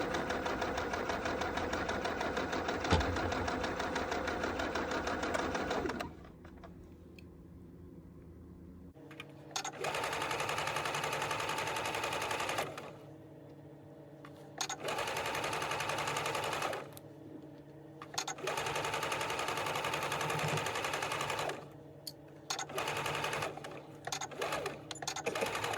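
A sewing machine stitches around a fabric bucket, its close, loud rapid whirring running in bursts broken by short pauses as the fabric is turned and backstitched.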